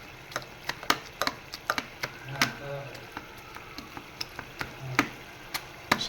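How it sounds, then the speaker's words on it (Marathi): Boiled vegetables for pav bhaji being smashed with a mortar pestle, producing repeated sharp thuds at an uneven, steady pace, fairly close, with a voice talking faintly between strikes. "मी आता खलबत्त्याचा हा भत्ता घेतला आहे आणि त्याने मी स्मॅश करते"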